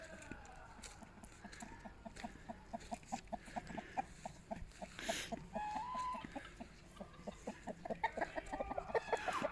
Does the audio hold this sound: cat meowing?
no